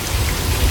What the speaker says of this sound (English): that's how we can create rain here in Hollywood